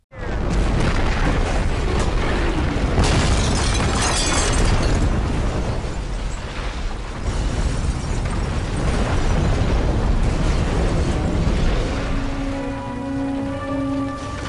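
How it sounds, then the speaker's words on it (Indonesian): A huge, roaring gas cylinder explosion at a hut in an action film, with a long rumbling, crackling burst that fills the whole stretch, then fades into lingering debris and rumble. "Samidi menembak tabung gas yang menyebabkan ledakan besar di pondok itu."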